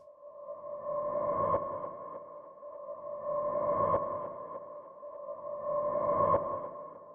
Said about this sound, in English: I use it to pan the sound from left to right like this.